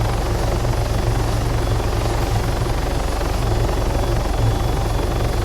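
Helicopter in the video game ARMA 3, a loud, steady rotor and engine drone that holds constant from start to finish, with no speech.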